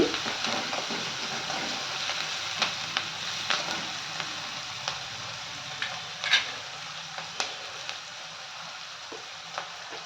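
Bitter gourd and onions fry in a thick, heavy pan with a steady hiss, broken by occasional light clicks of a spoon and faint pops, fairly quiet and even throughout.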